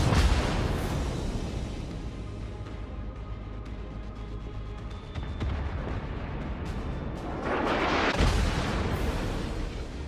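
Belfast warship guns firing in a naval battle video game, a sustained rumbling barrage with low booms, a sharp blast near eight seconds and continuous heavy battle noise throughout.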